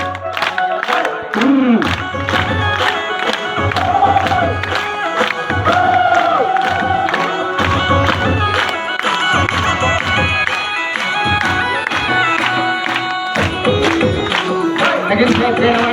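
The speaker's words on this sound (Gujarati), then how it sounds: "તાળીઓ" A crowd claps and cheers at a retirement ceremony for a primary school in Nanighodi. Steady, dense applause with bursts of cheering runs the whole stretch, mixed with music or voices.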